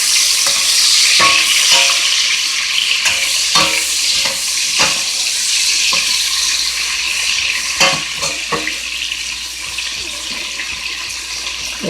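Peppers fry with crispy bacon in a pan while cooking smothered cabbage, giving a loud, continuous close sizzle broken by sharp ticks and scrapes from stirring, with no voices.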